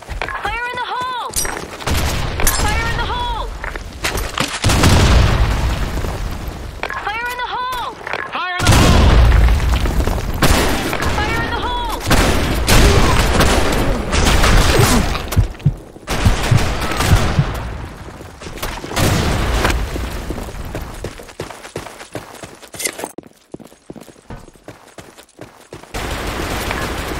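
Rapid bursts of gunfire and booming grenade blasts from the online shooter Blackshot, loud and dense, with repeated volleys and heavy thuds, over continuous in-game background noise.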